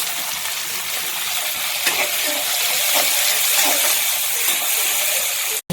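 Onion and garlic sizzle loudly in hot oil for a prawn curry, a close, continuous frying hiss with occasional stirring scrapes, ending abruptly.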